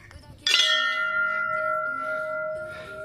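A temple bell hung high at Nageshwar Dham in Chhabra, Rajasthan, is struck once and rings out loud and near. Its bright metallic tone sustains with a slowly fading hum.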